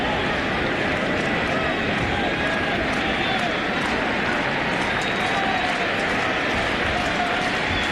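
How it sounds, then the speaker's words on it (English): Steady murmuring crowd noise fills a baseball stadium during a 2000 NLCS game between the Mets and St. Louis, a constant broad wash at moderate level without distinct peaks. "Crowd trying to get into it."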